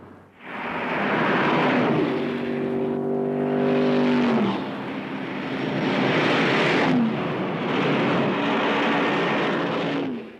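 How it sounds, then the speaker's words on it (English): A 1966 production car's six-cylinder engine runs loud and close, a steady drone whose pitch rises and falls as the revs climb and settle, with no talking. "This is the most advanced engine offered in any production line automobile this year."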